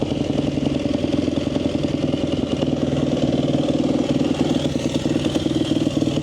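A Yamaha YZ250F dirt bike idling just after being kick started, a loud, steady, close engine putter with a fast even clatter and no voices.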